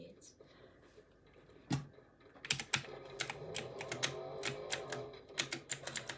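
A computer keyboard is typed on during PC play of Fortnite, with a scatter of sharp key clicks that speed up into quick bursts, heard close and fairly quiet.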